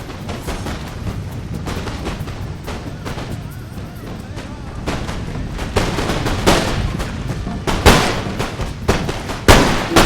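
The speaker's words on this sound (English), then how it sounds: "The Austrians still just trying to get some shots off." Austrian troops firing in a video game battle between France and Austria and a Spanish-Dutch alliance: scattered musket cracks and booms over a busy battle din, growing louder and denser toward the end.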